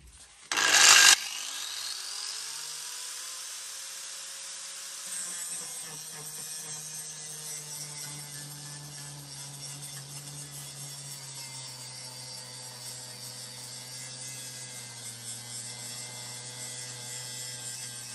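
A TILSWALL 125 mm angle grinder starts with a sharp burst, then settles into a steady whining drone as it grinds weld beads off metal, loud, close and continuous.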